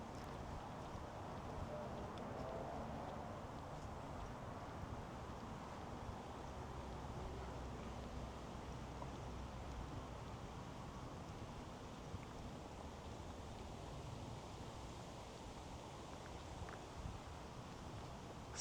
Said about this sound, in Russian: Слышен только шум ветра.